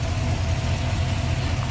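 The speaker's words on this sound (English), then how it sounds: "Smooth running, sounds good." A 1963 Chevrolet Nova V8 with an Edelbrock Performer RPM intake, Holley carb, HEI ignition and headers idles steadily and close by, giving a deep, even rumble with no revving.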